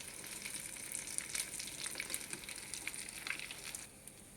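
Shami kabab meat fries in a pan over a medium flame with a soft but steady sizzle and popping crackles that fade away near the end; no one speaks.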